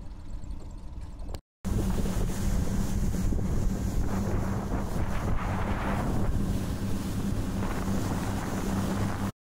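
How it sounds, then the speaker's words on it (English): Strong wind buffets the microphone out on Lake Lewisville, a loud, steady rumbling roar that starts after a brief dropout and continues without letup, with boat and water noise mixed in. "the wind is blowing like a banshee"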